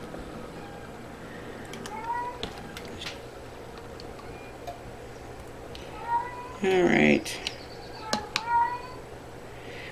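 Plaintive meows from a house cat repeat at intervals in a kitchen while mustard is canned, with someone talking, a steady ticking in the background and a louder clatter near the end.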